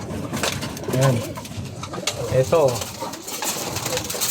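Racing pigeons coo in soft, rolling bursts, several overlapping calls close by, while someone talks nearby in a rainy outdoor loft setting.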